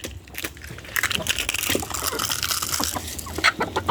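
Several chickens cluck and chatter continuously close by, with overlapping squawks and busy farmyard activity.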